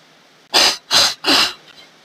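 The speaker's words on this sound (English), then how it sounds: "Oh, I'm just sneezing." Three sneezes in quick succession from a person who is getting sick, close and fairly loud, each a short burst with brief gaps between, followed by quiet.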